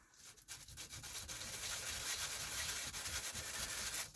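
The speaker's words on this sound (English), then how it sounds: "So now I'm going to take this coarser piece of sandpaper, and we're just going to go ahead and sand these sides, the back corners here" Coarse sandpaper sands the sides and back corners of a small N scale model building kit, making a close, continuous rasping scrub with slight back-and-forth surges and no voices.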